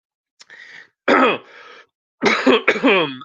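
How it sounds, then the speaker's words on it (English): Several close, raspy coughs and throat-clearing bursts come in short clusters, separated by brief silences. "sorry for coughing"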